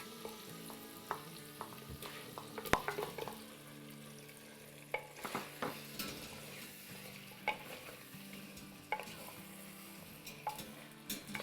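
Mutton frying in a pan with garam masala and ginger, a soft sizzle under intermittent stirring scrapes and clinks of a utensil against the pan, fairly quiet and close.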